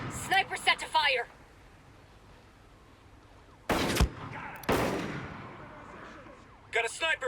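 In Ghost Recon Breakpoint, two loud sniper rifle shots boom about a second apart, each trailing off in a long echo, with clipped radio-style voices talking before and after.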